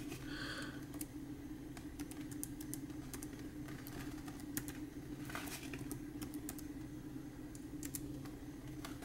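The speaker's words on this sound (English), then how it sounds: "Let me type in the password." Password being typed on an Acer Aspire V5-122P laptop keyboard: soft, scattered key taps at an uneven pace over a steady low hum, no talking.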